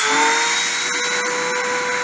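A machine spindle spins up to 30,000 RPM for a deposition run, producing a loud, steady high-pitched whine with layered tonal overtones that holds through the whole stretch, with no voices.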